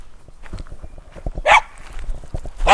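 A dog barking outdoors on a windy afternoon as it runs toward a car, giving a few short barks close by, mixed with rustling and movement sounds.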